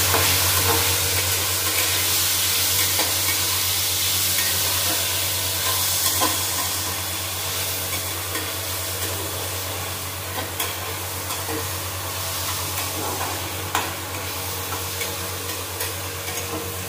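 Pineapple chutney being stirred in a pan, a steady sizzle and scraping of the spoon running continuously and close, with no talk over it.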